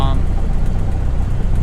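Light aircraft engine idling in a flight simulator game, a steady loud low-pitched throb that stays even throughout the brief moment.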